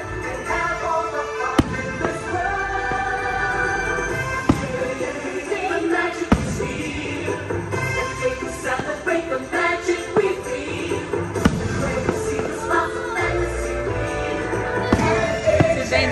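Fireworks display at the Enchanted Kingdom theme park: dense, continuous crackling and popping bursts with periodic sharper bangs, heard at moderate distance over a steady crowd murmur for the whole stretch.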